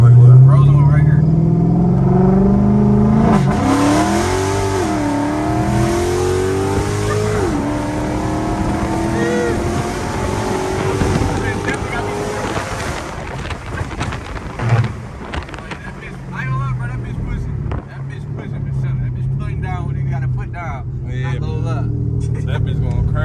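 A cammed Chrysler 300C runs a roll-on race against a Gen 2 Dodge Charger, the engines rumbling and revving hard with rising pitch, loud and sustained, while voices talk underneath.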